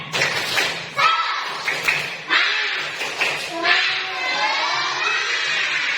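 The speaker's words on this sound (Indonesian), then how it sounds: "Tepuk semangat" Schoolchildren in a classroom perform the rhythmic 'tepuk semangat' clapping chant, sharp grouped claps and thumps mixed with loud shouted chanting voices in a repeating pattern.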